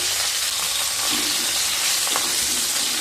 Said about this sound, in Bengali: এবার ওই তেলে কেটে রাখা মিডিয়াম সাইজের 2টো আলু ভেজে নেব।